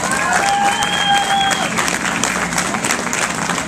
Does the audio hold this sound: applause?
yes